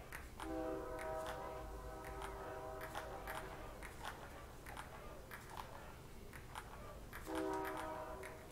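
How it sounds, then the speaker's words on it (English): A train passes at a distance, sounding a horn in sustained blasts at the start and again near the end, with faint clatter and short ticking sounds in between. "Trains."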